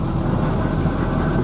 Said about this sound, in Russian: Трактор прошел.